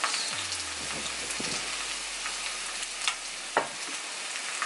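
Steak sizzles steadily in a hot pan with a bright, continuous frying hiss, broken by a few sharp crackles and a soft scrape, with no talking over it.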